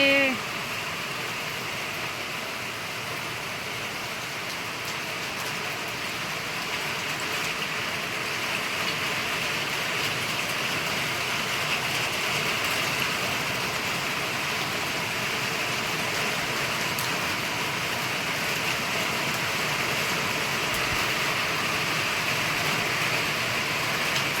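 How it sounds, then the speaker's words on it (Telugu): Steady rain falls outdoors on a sunny day, a continuous broadband hiss of drops on surfaces that holds even and fairly loud throughout, with no voices heard. "ఎండ అంతుంటే వర్షం పడుతుంది,"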